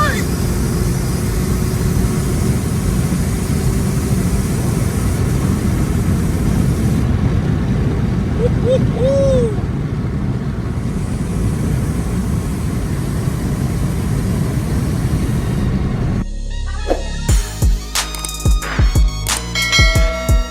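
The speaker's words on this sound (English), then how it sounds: "Now here is some footage of what the car sounds like whilst driving it from the inside" A VW Scirocco's engine drones steadily inside the cabin while driving, a loud, low rumble that holds for most of the stretch before cutting off near the end, where other brief, sharper sounds take over.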